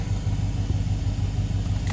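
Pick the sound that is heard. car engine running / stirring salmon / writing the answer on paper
car engine running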